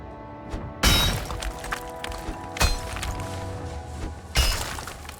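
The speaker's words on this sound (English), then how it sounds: "Looks like we're smashing up some rocks too." Rocks being smashed apart in Valheim's Mistlands, three sharp loud cracking impacts spaced a couple of seconds apart, each followed by crumbling debris over a steady ambient game background.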